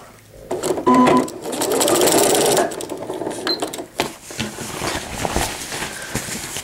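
Close, loud whirring of a sewing machine stitching the seam of a fabric pail liner, with one steady run followed by shorter stop-and-start bursts as the seam is readjusted.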